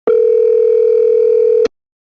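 A single steady telephone ringback tone sounds while dialing a guest for a radio show interview, loud and alone for about a second and a half before cutting off abruptly.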